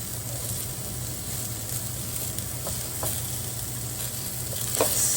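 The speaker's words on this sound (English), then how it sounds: "You can see the cashews starting to get roasted. I'll add the" Onions and cashews fry in a pan with a steady, soft sizzle, broken by a few faint scraping stirs near the end; no one speaks.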